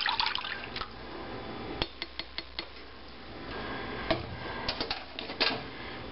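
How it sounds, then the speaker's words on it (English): A spoon stirs a coffee gelatin mixture in a pot on the stove, giving a quiet liquid swish broken by a run of sharp metallic clinks against the side; close and unaccompanied. "Get that stirred up some more."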